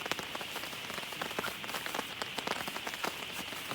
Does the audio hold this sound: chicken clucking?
no